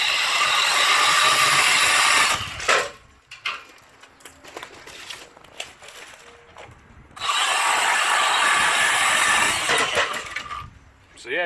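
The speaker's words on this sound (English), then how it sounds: "Nice thing is it's quiet too, quieter than a gas chainsaw" A Milwaukee M12 Hatchet cordless chainsaw cuts through wood in two loud, sustained bursts of electric motor whine, with a quieter gap of pauses and handling noise between them and a voice heard briefly.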